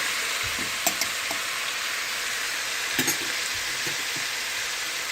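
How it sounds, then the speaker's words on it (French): A spice blend with garlic, parsley and green onion frying in hot oil, a steady loud hiss of sizzling with a few soft stirring knocks, near and without speech. "Dès qu'on met cette épice-là dans l'huile"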